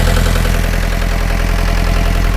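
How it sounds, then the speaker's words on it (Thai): A Yanmar B50 mini excavator's diesel engine idles steadily, a loud, close, even low chugging rumble with a regular pulse and no revving, with nobody speaking. "ตอนนี้ติดเครื่องอยู่ ไอเสียไม่มีนะครับไม่มี"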